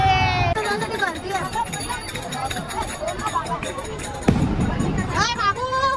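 Crowd at a Ganpati immersion procession, a busy hubbub of many voices and clinking with a close voice talking over it, steady and lively throughout.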